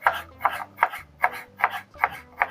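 A knife slices cooking ingredients for a village-style home meal in seven crisp, evenly spaced strokes, each a short close scrape-and-tap at a steady rhythm.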